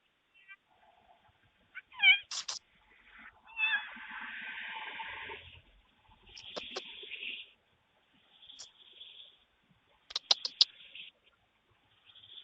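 A cat outside a house door gives several meows and squeaky calls, mixed with faint rustling and sharp clicks, fairly quiet and up close, with a stretch of soft background hiss between calls.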